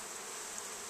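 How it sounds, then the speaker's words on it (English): Honey bees buzzing steadily at a backyard apiary hive, a dense, even drone close by with no talk. "has bees"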